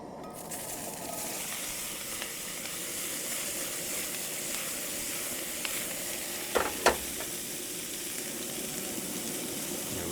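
Brussels sprouts sizzling in butter in a cast iron pan at an outdoor camp cooking setup, a steady close frying hiss with a couple of brief clinks and stirring scrapes.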